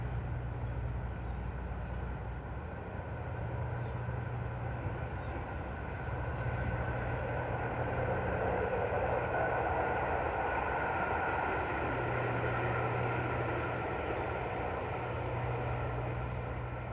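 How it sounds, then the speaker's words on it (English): A train passes near the course during the final round of the 1971 U.S. Open golf championship, a steady mechanical rumble that holds for the whole stretch with no voices over it, swelling slightly midway. "Only the mechanical sounds of the train and nature's sound here."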